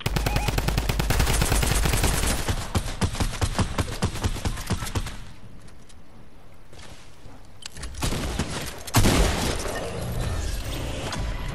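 Drum gun in the video game Fortnite firing long rapid automatic bursts, loud and close, then a quieter pause before another burst and scattered shots near the end.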